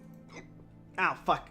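A man hiccups twice in quick succession, each one a sharp vocal gulp, right after he briefly swears.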